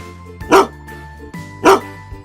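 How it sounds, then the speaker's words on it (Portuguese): A Bernese Mountain Dog gives two deep, loud barks about a second apart, close and clear over a quiet background. "Os cães da raça Bernese surgiram na Suíça."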